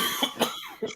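A man's coughing, heard up close and alone: a few short, harsh coughs in quick succession, then a final cough after a brief pause.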